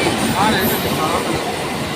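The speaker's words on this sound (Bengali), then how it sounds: "এই যে লোকাল ট্রেন চলে এসছে।" A local train pulling into Dasnagar station fills the space with a steady, dense rumble and rattle of wheels on rails, loud and close, with faint speech underneath.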